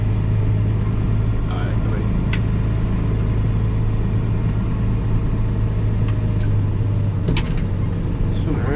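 Massey tractor engine running steadily as the machine turns sharply while moving sand, a close constant low rumble with faint clicks, and someone talks over it.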